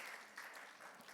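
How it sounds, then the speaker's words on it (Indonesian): A church congregation claps during a Sunday worship service, a soft, distant spatter of applause that holds steady for about a second. "tepuk tangan bagi Tuhan Yesus"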